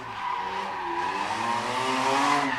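Race car at a test-and-tune session, its exhaust a loud, harsh drone with rising and falling pitch as the engine works, heard alone and fairly close.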